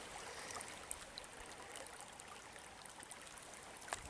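A creek flowing between hillsides at Natural Bridge State Park in Wisconsin, a steady, soft rush of running water with faint trickles and splashes, continuous and moderately distant, with no voices.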